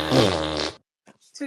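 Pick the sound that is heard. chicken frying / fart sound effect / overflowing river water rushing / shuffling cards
fart sound effect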